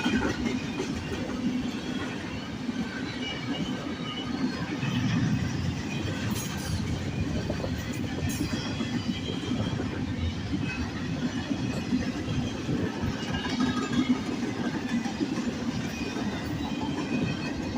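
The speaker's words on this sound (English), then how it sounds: "This is an empty Fairtail train." An empty Union Pacific well-car freight train led by a GE locomotive rolls past continuously, with a low rumble, steady clickety-clack of wheels on rail joints and occasional faint squeals, no voices.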